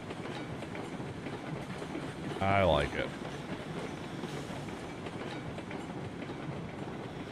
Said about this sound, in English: Nice little train.